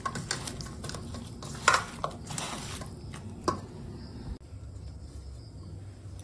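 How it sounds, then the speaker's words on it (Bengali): Soft squishing and wet stirring as fish is rubbed by hand with salt and turmeric, close and quiet, with a few sharper squelches and faint background hiss. "দিয়ে দেবো স্বাদ মতো লবণ, দিয়ে ভালো করে মাখিয়ে নেব। তো হাতে করেও মাখিয়ে নিই।"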